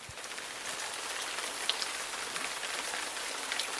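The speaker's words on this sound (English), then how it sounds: "The next day brought steady rain," Steady rain falls at Gorge Harbour in Desolation Sound, a soft, even patter with occasional louder drops, heard alone.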